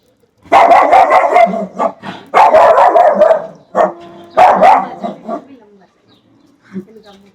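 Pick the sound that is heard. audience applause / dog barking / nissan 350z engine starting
dog barking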